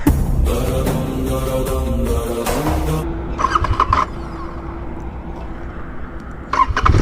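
A Royal Enfield GT650 motorcycle engine starting: loud, close cranking bursts settle into a steady throbbing idle, with brief sharper blips partway through and near the end and no voices.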